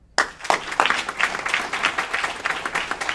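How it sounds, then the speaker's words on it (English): Applause breaks out suddenly at an Aurora city council meeting, starting with a sharp burst from silence and continuing as a lively, fairly close patter of many hands clapping with uneven peaks. "Another round of applause for Deputy Chief Nickel, Aurora Fire Department."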